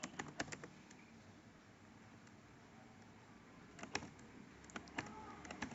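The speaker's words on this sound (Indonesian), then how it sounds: "Kemudian saya di sini ketik else" Code is typed on a computer keyboard in a Google Colab programming session, with quiet close key clicks in two short clusters separated by a pause, over a faint room hiss.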